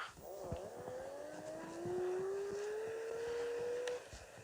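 A repaired electric scooter's motor runs in first gear, giving a faint, thin whine that climbs slowly in pitch over a few seconds, quiet and alone.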